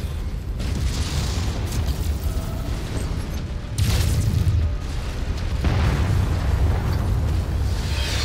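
Long Tom artillery shells exploding in the mech combat video game MechWarrior 5, a loud sustained barrage of deep booms and rumbling blasts with several bursts layered together throughout.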